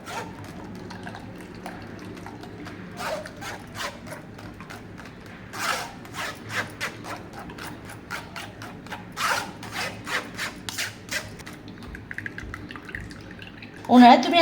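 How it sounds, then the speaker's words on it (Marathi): A spoon stirs cucumber juice through a strainer, producing intermittent wet scraping and dripping, with a sharper clink at the very end. "चमच्याने असं हलवून घ्यायचं।"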